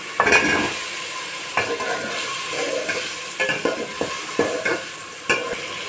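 Drumsticks and potatoes tumble into a hot pan of turmeric spice paste for a mustard fish curry, followed by steady sizzling and a few sharp scrapes and clacks of a spatula stirring, close and loud throughout.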